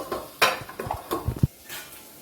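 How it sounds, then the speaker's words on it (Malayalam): Onion, green chilli and fennel crushed dry, without water: a run of uneven knocks and clattering thuds, some sharp and some dull, that fades to near quiet at the end, with no speech. "ഇതെല്ലാം കൂടി നമുക്ക് വെള്ളം ഒഴിക്കാണ്ട് ഒന്ന് ചതച്ചെടുക്കാം കേട്ടോ"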